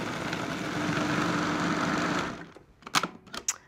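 A food processor purees roast vegetable hommus seasoned with cayenne pepper, giving a steady, close motor whir for about two and a half seconds before it cuts off, followed by a few light clicks and taps.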